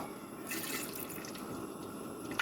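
Fenugreek seeds spluttering in hot coconut oil in a heavy uruli pan over a burner, a continuous close hiss and crackle with a small sharp pop near the end.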